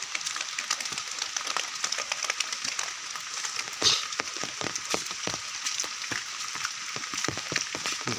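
Heavy rain and wind during Cyclone Dana make a dense, steady hiss, with scattered sharp drops and spatters hitting surfaces nearby; no one speaks.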